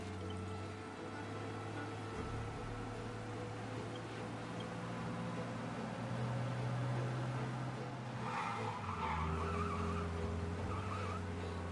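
Tires skid during a police chase in the video game Mafia, a sustained squeal over a steady, loud engine drone, with a brighter wavering screech near the end.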